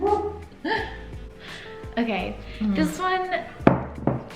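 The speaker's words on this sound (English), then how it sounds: "You might hear some dog barking in the background." Rocky the dog barks and yips sporadically in the background while people talk over it in the foreground.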